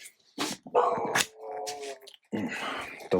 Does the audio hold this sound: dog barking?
yes